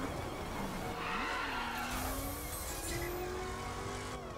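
A car in the video game The Crew drives with a steady engine drone while its tires squeal and skid in long rising and falling whines, loud and continuous without talk.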